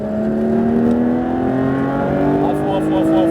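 A Porsche GT3 RS engine accelerates steadily on a race track, its pitch rising as it pulls hard, loud and close, with a voice speaking briefly over it.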